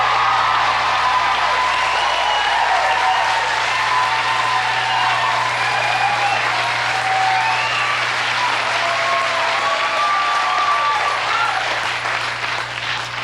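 Studio audience at a 1985 late-night television talk show applauds steadily as Phil Collins is welcomed, a dense, sustained wash of clapping with some cheering that holds at a loud, even level throughout.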